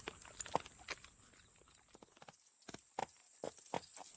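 Horses walk at a steady pace on the way into town, hooves clip-clopping in a loose, uneven rhythm of sharp knocks, fairly close and clear with no talking over them.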